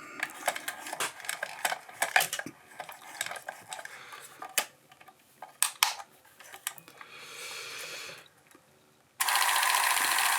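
A vintage Kodak Model K cine camera being wound up, a run of close, irregular ratcheting clicks, then a brief whirr and finally a steady, loud mechanical running hum with no voices.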